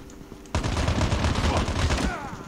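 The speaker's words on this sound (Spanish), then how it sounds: "Me están disparando" Heavy automatic gunfire from a weapon in the mobile shooter game Call of Duty Mobile, a sudden loud burst of rapid repeated shots after a quiet half second, continuing steadily to the end.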